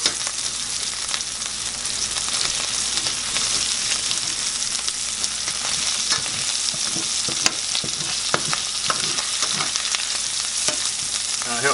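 Canned potatoes fry in a pan while being pushed around so they don't stick, a steady crackling sizzle with repeated scraping and tapping of a utensil against the pan bottom.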